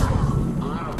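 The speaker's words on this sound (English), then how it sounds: "He's taking fire! Protect him!" A brief burst of heavy weapons fire from a firefight in the video game Mass Effect 3, a loud booming blast with a rumbling tail, over in about a second.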